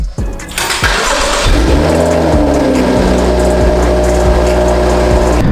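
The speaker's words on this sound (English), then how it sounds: "I can already hear the intake, and it sounds really cool" A BMW F30 engine with an MST intake starts cold with a loud rush, then settles into a droning, revving hum with deep intake tones as the car drives off.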